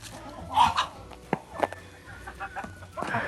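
Several hens of Leghorn, Bielefelder and Amrox breeds cluck nearby in short, irregular bursts, with soft scratching and rustling between the calls, in winter.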